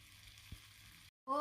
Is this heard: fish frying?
yes